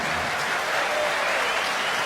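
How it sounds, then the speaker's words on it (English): A large darts crowd applauds continuously at a darts tournament semi-final, a loud, dense wash of clapping that holds steady throughout. "He'll get a clap when he walks back round."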